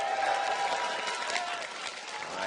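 Crowd at a Season 2 World Championship esports playoff match applauding and cheering for Invictus Gaming, a steady roar of clapping heard from a distance through the venue, with some voices mixed in.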